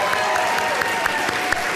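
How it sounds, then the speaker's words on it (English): Steady audience applause at a Seattle Colleges convocation ceremony, a dense, continuous patter of many hands clapping throughout, fairly close and uniform with no voices standing out. "you have joined me in a wonderful round of applause for all of them"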